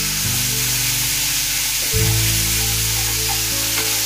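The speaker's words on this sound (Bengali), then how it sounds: "আদাটা দেখুন ভাজা হয়ে গেল।" Ginger paste fries in a pan with a little water, a continuous close sizzling hiss accompanied by low humming tones that shift midway, with no speech.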